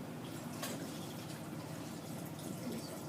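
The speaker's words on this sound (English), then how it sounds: "This is just water. And I want you to observe, as I pour this in," Water poured into a container makes a steady, faint splashing and trickling wash that runs unbroken for a few seconds, with no talk.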